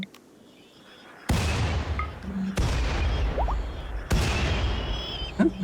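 Colonists opening fire in the RimWorld video game: three heavy booming gunshot bursts spaced about a second apart, each decaying into a rumbling tail, with a few faint clicks between.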